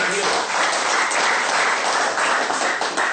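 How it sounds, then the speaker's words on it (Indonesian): An audience claps together at a talk given by a search and rescue commander in Yogyakarta, a full, even round of applause that holds steady from start to finish. "Tepuk tangan dulu."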